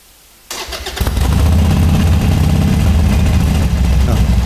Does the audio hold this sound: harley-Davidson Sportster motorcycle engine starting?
yes